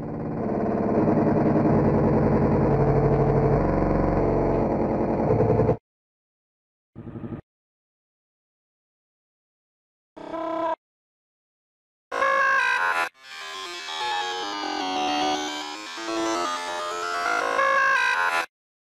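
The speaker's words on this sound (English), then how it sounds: "Approaching the door, you can hear a buzzing coming from inside, repeating over and over, and if you speed it up 10 times" Sped-up buzzing from behind the red door in Deltarune, a dense electronic tone with a steady harmonic hum, then short isolated bursts separated by silence, followed by a louder, wavering synthetic stretch.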